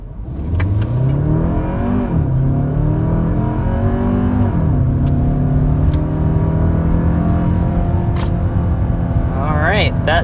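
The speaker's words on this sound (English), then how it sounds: "we need to go ahead and start with a hard acceleration" A Kia Telluride Hybrid accelerating hard, its engine note climbing steadily through rising pitch sweeps with a brief dip in between, loud and close from inside the cabin, with no talking.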